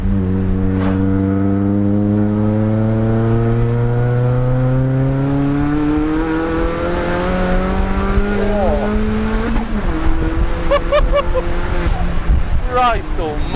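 A 380bhp Vauxhall Astra VXR engine wails under hard acceleration from inside the car, its pitch climbing steadily through a long pull, then dropping at a gear change before rising again, loud over road and wind noise.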